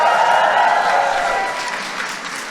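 A crowd at an Eid al-Fitr reception hosted by President Obama breaks into loud, dense applause that gradually eases off over a few seconds.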